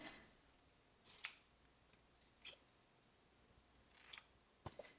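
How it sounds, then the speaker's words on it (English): Scissors snip the end of a ribbon on a gift bow, with three or four short, crisp cuts spaced a second or so apart against a very quiet background. "Trim that end, make it even."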